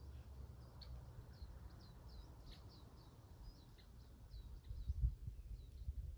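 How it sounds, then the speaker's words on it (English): Small birds sing outdoors at a distance, a scatter of faint, high chirps and short trills over a low, steady rumble of open-air background noise. "Hear the birds"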